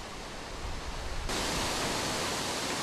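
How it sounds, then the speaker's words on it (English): Steady, dense roar of rushing water, loud and continuous, like a large waterfall close by, growing fuller partway through. "with this roaring avalanche of water"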